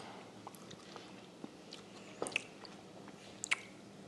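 A person tasting a coleslaw dressing sweetened with maple syrup, with soft, close, irregular chewing and a few small wet smacks, two slightly sharper clicks standing out over a quiet background.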